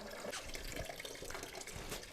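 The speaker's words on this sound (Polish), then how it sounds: "teraz czeka nas żmudne z tego odpływu ręczne spuszczanie wody" Water gurgles and splashes as it drains out of the taps of a summer house's plumbing, an uneven close trickle with bubbling bursts and no voices.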